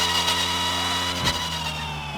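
A race car's engine holds a steady, loud, mid-pitched drone while lapping a track, with a brief surge in the middle as it works through a corner, no talking.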